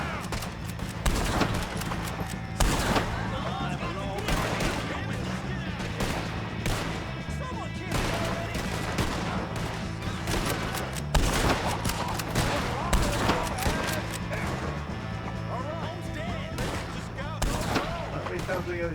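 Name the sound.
gunfire in video game Red Dead Redemption 2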